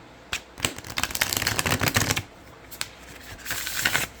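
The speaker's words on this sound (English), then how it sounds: "They shuffle so well." Tarot cards riffled and bridged close by, a rapid papery flutter in two bursts with a short pause between, plus a few light taps.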